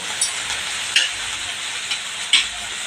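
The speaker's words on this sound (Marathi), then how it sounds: "त्याच्यामुळे आम्ही दोन्ही बाजूनं भाजून घेणार" A semolina amboli pancake sizzles as it roasts on a pan, a steady close frying hiss broken by a few light ticks and pops.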